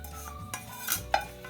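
A spoon stirs sautéed onion and garlic into a heated wheat and milk mixture for Hyderabadi aleesa, making a few short, soft scraping knocks against the pot, close and quiet.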